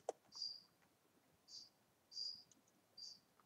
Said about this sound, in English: Hey, freaking crickets!